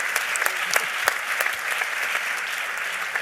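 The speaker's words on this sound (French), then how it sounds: "On peut l'applaudir." Audience applause after a talk about a connected potato at CES 2020, a continuous round of clapping from a modest crowd, even and fairly close, with faint voices underneath.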